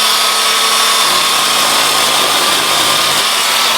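An 8-inch TACKLIFE pole saw cuts through tree branches growing against a house exterior, a steady close buzzing motor whine with sawing noise that runs without a break and no voices.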